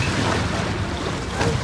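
Aboard at sea near a fishermen's boat hauling in a net, a steady roar of wind and waves fills the air, with wind buffeting the microphone and no voices.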